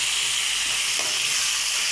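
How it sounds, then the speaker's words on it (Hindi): Finely chopped tomatoes frying with onions in a hot pan give a loud, steady sizzle and hiss that runs the whole time, close up, with no voices. "तो टमाटरों को मैं 2 मिनट तक इसको मैं अच्छे तरीके से मैं प्याज़ों के साथ इसको मैं भून लूँगा।"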